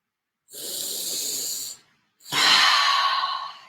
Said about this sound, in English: Take a breath, everyone.